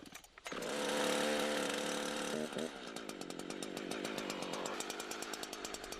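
A chainsaw revs up loudly and cuts into a tree trunk, a sustained close engine whine that settles into a rapid pulsing chatter as the chain bites through the wood.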